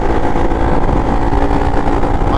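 A motorcycle fitted with a 14-tooth front sprocket and 36-tooth rear being ridden, its mid-pitched engine droning loud and close with a steady throb and a rising whine near the end.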